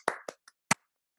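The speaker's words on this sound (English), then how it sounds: "So they used to do this weird clap" Hand clapping in an odd rhythmic pattern: three quick claps, a faint light tap, then one final sharp clap, close and dry with nothing else heard.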